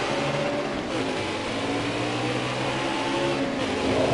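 A race car engine in NASCAR Heat 4 drones loud and steady as the car brakes hard into a corner, the mid-pitched engine note holding with a slight rise near the end.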